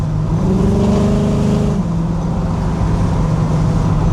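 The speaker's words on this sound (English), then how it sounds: "Ain't nothing like that big block Chevy sound" A 1969 Chevrolet Camaro SS's big-block 396 V8 rumbles loudly up close, revving hard with a deep growl, then settling back into a steady heavy idle.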